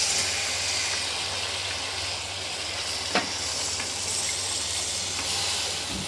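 Chicken sizzling steadily in a hot pan for chicken kulambu while it is stirred, a broad continuous hiss with a low hum underneath and one brief scrape partway through.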